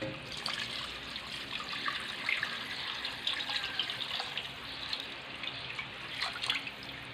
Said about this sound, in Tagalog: Dagdagan po natin ng tubig.